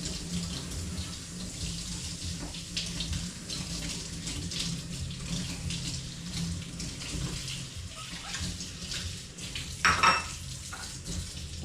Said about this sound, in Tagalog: Itong sambong ko, hugasan muna.